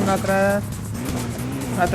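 Rally car engine from the Hill Climb Racing 2 video game, revving in tonal bursts that rise and dip across about two seconds, with a voice talking over it.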